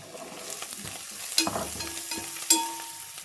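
Cauliflower fry with salt, curry leaves and coriander is stirred in a pan: a soft, low sizzle with a few scraping spoon strokes and two sharp clinks against the vessel.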